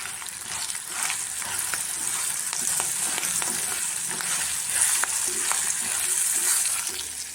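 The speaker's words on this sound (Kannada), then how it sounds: "ಇದು ಮೆಣಸಿನ್ಕಾಯಿ ಸ್ವಲ್ಪ ಚೆನ್ನಾಗಿ ಫ್ರೈ ಆಗಿ, ಸ್ವಲ್ಪ ಕಲರ್ಗೆ ಅರಿಶಿನ ಹಾಕಿದ್ದೀನಿ." Green chillies fry with turmeric in hot oil in a pan, making a constant close sizzle with scattered crackles and stirring scrapes that swell slightly toward the end, without talk.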